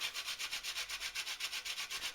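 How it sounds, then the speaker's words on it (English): Whole nutmeg is rubbed against a hand grater in quick, steady rasping strokes, close and fairly quiet, with no talk. "So here's my grater and my nutmeg."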